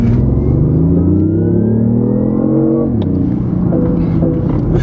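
A 2015 BMW i8 hybrid sports car in sport mode revs and accelerates loudly up close, its pitch climbing steadily, dipping briefly at a gear change, then rising again.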